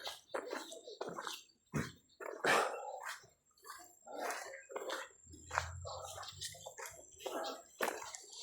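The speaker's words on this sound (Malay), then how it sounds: "Jumpa anjing yang menegur." A dog barks at passing hikers on an outdoor trek during a scout leadership course, giving a series of short, sharp calls mixed in with nearby voices chatting.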